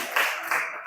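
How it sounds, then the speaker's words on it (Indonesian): A primary school class claps hands together in a classroom lesson, making three quick, sharp claps in rhythm. "tepuk tangan"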